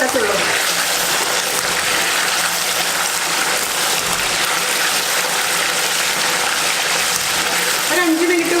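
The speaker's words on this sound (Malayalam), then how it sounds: "ഇപ്പോൾ ഒരു 5 മിനിറ്റ് ഞാനിത് ഫ്രൈ ചെയ്തെടുക്കട്ടെ" French fries deep-fry in hot oil with a loud, dense, steady sizzling hiss that runs unbroken from start to finish.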